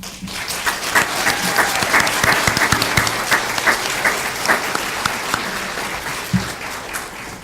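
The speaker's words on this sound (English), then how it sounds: "Let's give another big round of applause to all the students tonight who earned a point of pride." Sustained applause from an audience at an evening school board meeting, honoring students who earned a point of pride; steady dense clapping throughout with a few sharper claps near the end, no talk.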